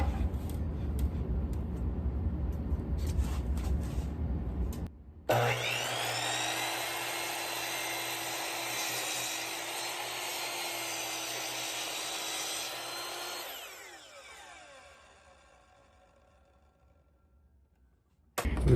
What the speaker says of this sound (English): I decided to use a 1/4 inch Ogie router bit with a cutting length of 3/8 of an inch to make my round over on my base